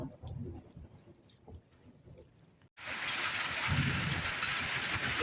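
Rain and hail pour down outdoors in a hailstorm, starting as scattered faint patter and then abruptly becoming a loud, dense, steady hiss of falling drops and pellets.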